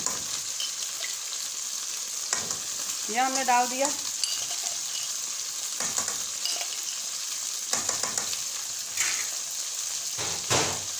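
Ginger and garlic paste fries in a hot pan with steady sizzling, occasional stirring scrapes and a brief spoken remark over the crackle.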